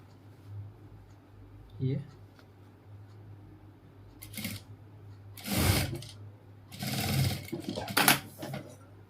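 A sewing machine stitches a seam over the shoulder pad of a ladies' coat or blazer in several short bursts, with quiet gaps and a voice speaking between runs.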